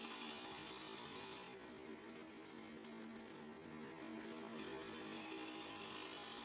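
Wood lathe turning a piece of scrap wood down to size with a sharp bowl gouge: a steady, close, broadband whirring hiss that runs unbroken throughout, dipping slightly in the middle.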